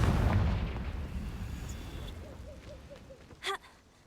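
A Confringo fire spell in the Hogwarts Legacy video game erupts in a loud, booming blast that fades into a rumbling tail, followed by a brief sharp magical chime.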